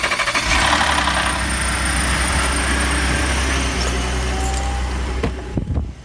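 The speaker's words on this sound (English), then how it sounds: "Let's go ahead and actually cold start this thing and we'll see if it does in fact have a cold start engine rattle." A 2020 Ford Expedition with the 3.5 twin-turbo engine cold-starting, settling into a steady, loud, close idle with a low rumble and light mechanical rattle throughout, briefly dipping near the end.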